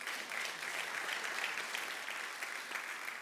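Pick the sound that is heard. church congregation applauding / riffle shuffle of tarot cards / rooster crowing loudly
church congregation applauding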